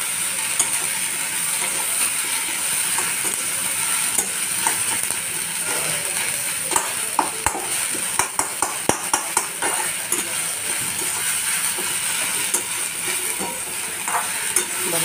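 Okra and green peas being stirred in a frying pan, with a steady sizzle and repeated scraping and clinking of a spoon against the pan, close by with no talking.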